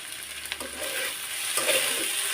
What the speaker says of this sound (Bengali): এখন আমি নেড়ে দিলাম নেড়ে আবার ঢাকনাটা ঢেকে দেব